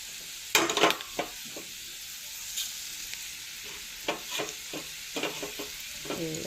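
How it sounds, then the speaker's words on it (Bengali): Fish and spices fry in a pan over low heat, giving a quiet continuous sizzle broken by scattered scraping stirs and light knocks of the spatula, with no voices. "আস্তে আস্তে মশলা এখানে কষাবেন এবার আমি দিয়ে গেলাম মাছ"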